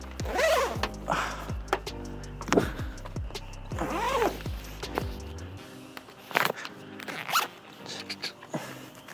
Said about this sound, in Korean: 사다리를 타고 올라가서 이 지퍼를 열어야 됩니다